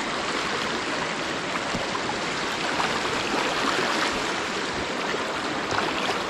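Steady broadband rush of a clean river flowing over the riverbed, constant and fairly close, with no voices and no other sounds.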